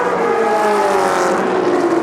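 A powerful race car engine at the Sonoma Speed Festival holds a loud, steady drone close by, its pitch sliding slowly down without any talk over it.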